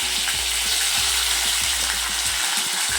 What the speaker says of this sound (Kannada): ಸ್ವಲ್ಪ ಚೆನ್ನಾಗಿ ಫ್ರೈ ಮಾಡೋಣ